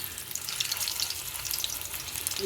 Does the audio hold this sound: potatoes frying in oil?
yes